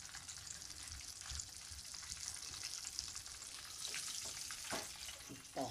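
Chicken keema cutlets fry in a pan with a steady, fairly soft sizzle and crackle throughout, with a few stirring or scraping touches and a brief louder clatter near the end.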